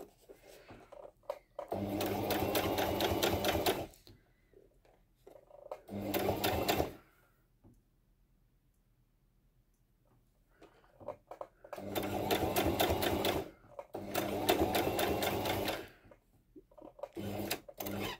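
A sewing machine stitches a cushion seam in steady rapid bursts of a few seconds each, separated by pauses, close and clear with no talking.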